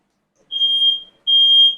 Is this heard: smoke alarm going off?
yes